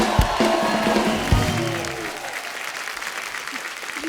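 A television comedy show studio audience claps for actress Nora Fatehi, a dense, steady round of applause. A voice speaks over it at the start, and the clapping continues alone afterward.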